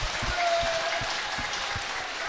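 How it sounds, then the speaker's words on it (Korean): Steady applause for reporters at a political rally, a continuous wash of many hands clapping with a few low thumps underneath, lasting the whole two seconds. "내가 기자님들에게 박수 한번 쳐드리겠습니다."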